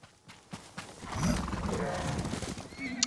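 A horse neighs and its hooves clip-clop in the video game Ghost of Tsushima, the whinny rising over a busy game soundscape of ambient noise and effects.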